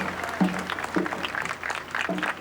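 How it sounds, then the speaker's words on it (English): Scattered ripples of applause from a crowd lining Ronald Reagan's funeral procession as military service members move into place, steady outdoor clapping with a few faint voices mixed in. "there are ripples of applause for the various members of military services who move into their places"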